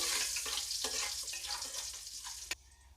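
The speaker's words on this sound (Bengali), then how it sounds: "জিরে আর গোটা গরম মশলা এই ফোড়নগুলো আমি দিয়ে দিলাম।" Cumin seeds and whole garam masala sizzle in hot oil for mutton kosha, giving a loud, bright, crackling hiss close up, with intermittent pops and a sharp clack near the end, and no talk.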